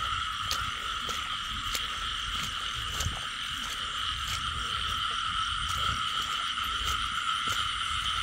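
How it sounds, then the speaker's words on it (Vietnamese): A dense chorus of frogs croaking after heavy rain, continuous high-pitched trilling calls with steady pulsing clicks, close and loud, no voices. "Ủa con nhái chứ"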